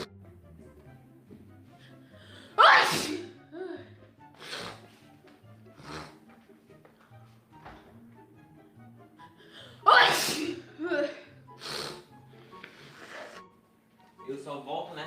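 Two loud, explosive sneezes several seconds apart during a sneezing fit, with softer sniffs and breaths between them and someone talking quietly near the microphone.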